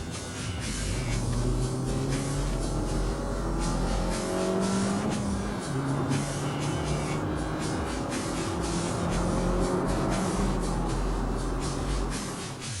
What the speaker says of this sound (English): Where the Fiat 500 Abarth really sets itself apart from other cars in its class is stock. It sounds awesome.